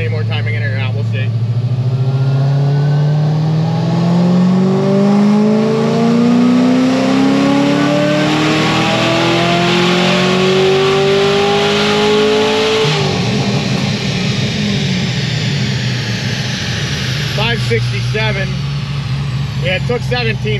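Supercharged Chevrolet Corvette C6 on a dyno, its engine roaring loud and close through a steadily rising pull for about thirteen seconds, then dropping back to a rough idle and a short burst of revs near the end.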